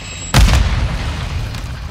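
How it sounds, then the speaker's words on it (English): A Semtex grenade in a first-person shooter game goes off with a single loud, close boom that rolls into a rumbling low tail. "Throwing Semtex!"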